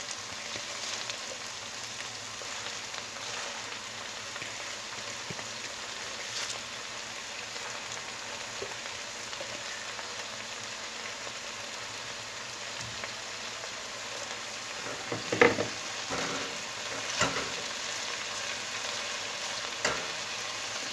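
Washed spinach sizzles and hisses steadily in a hot pot, with a few louder stirring clanks near the end.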